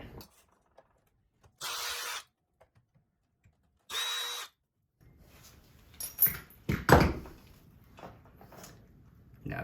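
A power drill takes out the screws on a door handle: two short, even whirring bursts separated by quiet, then knocks and the rattle of handling the hardware.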